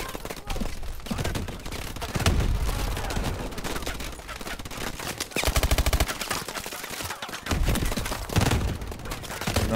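Dense, loud gunfire from combat in the video game Call of Duty: Advanced Warfare, with rapid overlapping bursts and heavy blasts that continue almost without pause.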